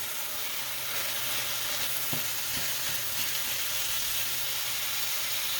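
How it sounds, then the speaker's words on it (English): Ground beef and onions fry in a pan with a steady, close, even sizzle throughout, broken only by a couple of faint clicks. "After about 1 minute, I'm gonna go ahead and add the ground beef."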